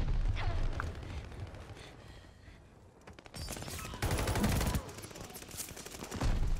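Gunfire in Call of Duty Vanguard comes as bursts of rapid automatic shots with booming impacts, a dense volley early on and renewed heavy firing later, loud and close.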